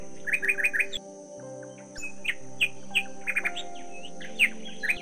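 Parrots chirping and twittering, with bright rapid calls in quick clusters over a steady low hum, close and fairly clear, no talking.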